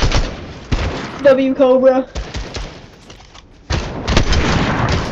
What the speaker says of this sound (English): I'm getting sniped at from behind.